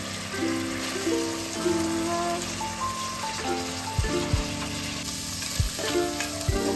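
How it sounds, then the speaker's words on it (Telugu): Soaked moong beans frying in hot oil with ginger-garlic paste in a pan, a continuous close sizzle with crackling pops and occasional scrapes of stirring, with no talk. "ఈ పెసర్లు కూడా ఆయిల్లో ఫ్రై చేసుకోవాలండి"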